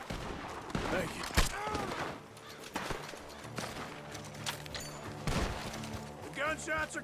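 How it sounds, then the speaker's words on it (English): Sharp gunshots crack in bursts amid Red Dead Redemption 2 game action, some shots close and loud, others scattered, with hoofbeats and voices talking over parts of it. "The gunshots are coming from that barn."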